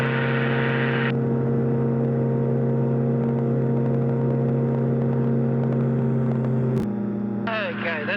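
Light aeroplane engine droning steadily in flight, a loud, close, constant tonal hum that holds throughout, with a brief shift near the end.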